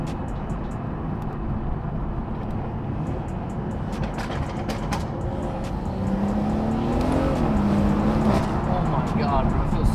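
Modified BMW 440 with a B58 engine and loud aftermarket exhaust, a constant heard-from-inside drone of the engine with a brief rising rev and sharp crackling pops near the end, while people talk excitedly.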